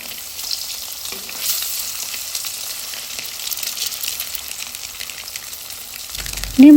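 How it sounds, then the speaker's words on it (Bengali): Boiled eggs fry in hot oil in a home kitchen, with a soft continuous sizzle and light stirring. A sharper, louder sound breaks in right at the end. "এপাশ ওপাশ করে ডিমগুলো আমরা একটু ভেজে নেব।"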